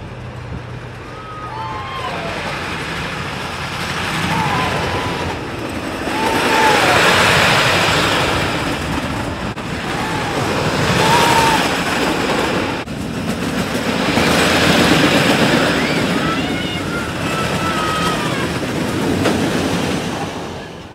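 A wooden roller coaster, Wooden Warrior at Quassy, rumbles through a front-row night ride with steady clattering track noise and rising, falling roar, while riders shout and cheer over it throughout.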